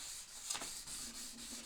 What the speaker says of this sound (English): the sandpaper to try to smooth over.